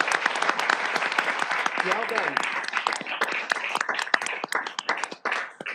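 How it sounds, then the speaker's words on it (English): Audience at a city council meeting applauds with dense, sustained clapping that runs close and loud throughout, and a voice briefly speaks over it. "So let's take a moment to applaud."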